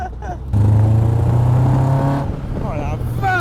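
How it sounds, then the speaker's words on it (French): A Caterham Seven sports car, the Lotus Seven design, accelerates hard on the road with a loud, close engine note rising steadily through the revs, then it dips and climbs again, and people talk over it. "Dès que t'accélères, c'est vraiment violent."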